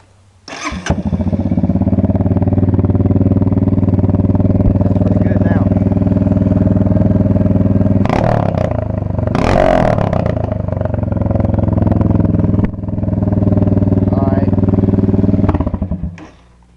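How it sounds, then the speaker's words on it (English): A Honda CRF230F dirt bike with its exhaust baffle removed idles loudly and close by, with a few sharp throttle revs and blips breaking the steady uncorked exhaust rumble, and a brief clatter near the end. "I just took out the baffle. It's basically the same thing. And you can relocate the air filter and snorkel and stuff. Here's what it sounds like now."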